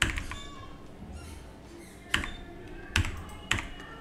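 Keystrokes on a computer keyboard as a captcha code is entered during an online login, a few quiet taps followed by three sharper, separate key clicks spaced about a second apart, close and alone with no talk.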